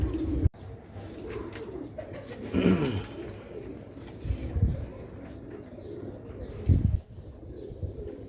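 A large male pigeon coos on a rooftop loft in Sialkot, with several deep rolling coos rising above a quiet background at close range and faint bird sounds between them.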